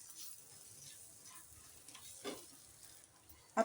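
Turmeric, chilli powder and chopped garlic sizzle faintly in hot oil in a pan while making egg poli, a soft, steady frying crackle with light stirring scrapes and a sharper clatter at the end.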